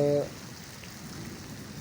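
Light rain falls on young herb plants in a garden bed, a soft, steady hiss of patter that continues quietly after a brief voice at the very start.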